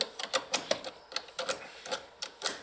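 A wrench works the battery terminal nut on a Renault Clio 3, giving a run of sharp, close metallic ratchet clicks in an uneven rhythm, each tick crisp and brief.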